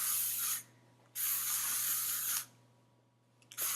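Close aerosol dry hairspray hisses onto curled short hair in three bursts, two long steady sprays separated by short pauses, then a third beginning at the end.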